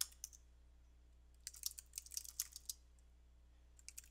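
Quiet typing on a computer keyboard: a few isolated key taps, then a quick cluster of clicks, then scattered taps again, close and soft over a faint steady hum.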